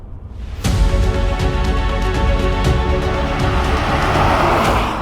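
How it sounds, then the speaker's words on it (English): Inside a Jaguar F-Type cruising at 70 km/h with the engine ticking over at 1100 RPM, a steady low cabin hum of road and engine noise holds evenly, with no talk. "At 70 k's an hour, the car is ticking over at 1100 RPM, and it is absolutely dead silent in here."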